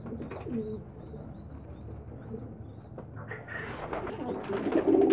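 Pigeons in a loft give soft low cooing calls, with a few faint chirps, close by and gentle, over a quiet background.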